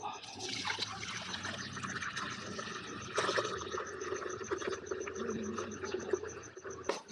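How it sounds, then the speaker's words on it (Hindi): About three kilos of fresh milk from the family's own cow poured into a pot over a lit fire, a continuous close liquid trickle and splash, with some talk mixed in. "अभी इसमें हम दूध डालेंगे।"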